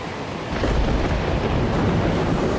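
Heavy hurricane-driven surf pounding a Caribbean coastline, a loud, dense roar of crashing water and wind that swells after the first half-second and stays steady throughout.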